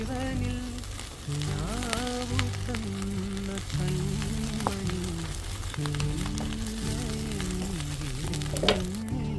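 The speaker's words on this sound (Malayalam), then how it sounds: "ഇനി നമ്മൾ ഈ ബീഫിലേക്ക് ഞാൻ എടുത്തു വെച്ച പൊട്ടാറ്റോ മിക്സ് ചെയ്തത് ഒന്നിട്ട് കൊടുക്കുകയാണ്. നന്നായിട്ട് ഇളക്കാം." Beef and potato sandwich filling fries in a pan under steady stirring, a constant sizzle with crackles and spoon scrapes, while a faint tonal hum runs underneath.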